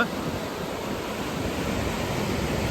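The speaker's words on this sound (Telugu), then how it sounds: "ఇది బీచ్" Sea waves wash in at a beach where a pond drains into the sea, a steady, even roar of surf with no distinct breaks or voices.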